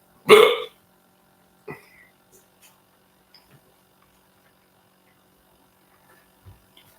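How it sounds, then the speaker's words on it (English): A short, loud burp-like gulp right at the start, followed by a few faint clicks and small sounds in an otherwise quiet room; no speech. "A berry white burp."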